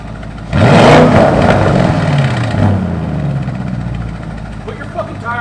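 An Audi RSQ8 with a newly installed aftermarket exhaust revs hard from idle, a deep loud roar that swells, eases and holds a rumbling burble, close by in a garage setting.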